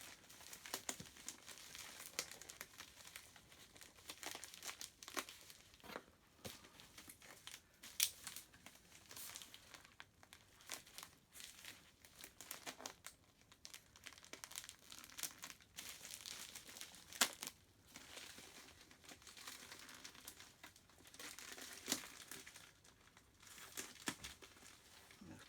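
Plastic packaging around an airsoft Glock 17 gas blowback pistol being opened, a long stretch of continuous crinkling and crumpling with sharp tearing bursts throughout, close and fairly loud, with no talk.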